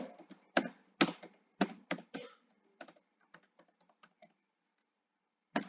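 Keys clack in quick irregular bursts on a computer keyboard while an online graduate application form for Caltech is filled in, close and fairly quiet, with brief pauses between bursts and no talk.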